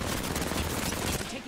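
Dense, rapid gunfire in the video game Apex Legends fills the short stretch as a loud, continuous volley with no pause.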